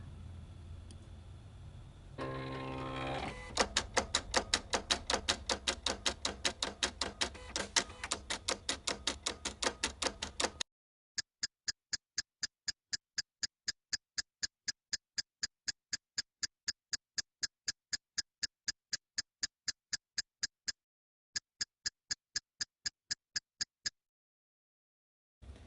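A craft cutting machine runs through a job for a shadow box frame, giving a long, steady run of rapid mechanical ticks: a dense busy stretch first, then lighter, evenly spaced clicks with brief pauses, close and alone.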